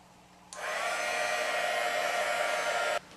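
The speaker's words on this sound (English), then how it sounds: "take the Marvy Ushida heating tool and heat this up until it puffs" A Marvy Uchida heat tool blows a steady, loud whoosh of hot air for about two and a half seconds, heating puff ink on a scrapbooking piece, then cuts off abruptly.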